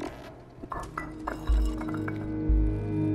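A ceramic vase breaks in the Stray video game, with light clinks and small knocks first, then two heavier crashing thumps that scatter into ringing fragments.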